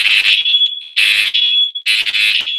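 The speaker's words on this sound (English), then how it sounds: "Alarm's going." A fire alarm sounds inside a spa, loud shrill electronic tones in repeated bursts with short gaps between them, close and alone without talk.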